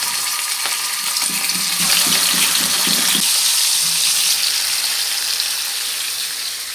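Fish coated in turmeric and salt fries in hot oil, a steady loud sizzle and spatter that holds for several seconds with faint clinks underneath and no voices.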